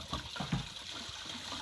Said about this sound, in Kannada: ನೀರು ಹಾಕ್ತಾ ಇದ್ದೀವಿ ಇದಕ್ಕೆಲ್ಲ.